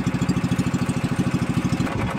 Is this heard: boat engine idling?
yes